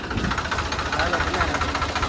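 A farm tractor idles close by, its engine holding a steady, even low rumble with a faint regular knock throughout.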